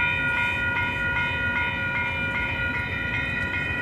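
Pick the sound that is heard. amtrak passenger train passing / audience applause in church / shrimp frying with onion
amtrak passenger train passing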